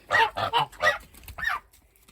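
Geese honking nearby, a quick run of four loud nasal honks followed by a fainter drawn-out call, alone with no talk.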